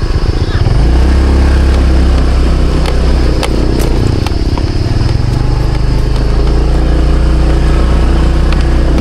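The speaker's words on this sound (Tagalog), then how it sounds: "Napaganda yung brake-in ng motor natin." Motorcycle engine running steadily while riding over a rough road of large, sharp rocks near a cave, loud and close throughout with rumbling low drone and occasional knocks; a voice speaks briefly.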